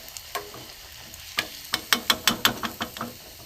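Radish chops fry in hot oil with a quiet sizzle. A quick run of about a dozen sharp, crackling taps and scrapes rises over it, with no voices.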